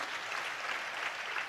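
Congregation clapping at a church service, a soft, steady patter of many hands heard from a distance, faint and continuous without voices on top.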